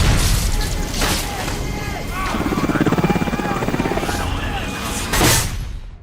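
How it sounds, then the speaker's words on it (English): Helicopter rotor thumping and engine roar in a film scene as the aircraft is shot down, loud and close, with booming impacts, swelling blasts near the start and end, and a voice briefly heard. "But the story takes a dark turn when Sam's helicopter is shot down."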